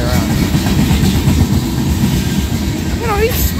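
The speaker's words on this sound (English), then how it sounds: "Oh, it's a tanker train." A long freight tanker train rolls past on the rails at a steady, loud roar with rhythmic wheel clatter, and a brief squeal near the end.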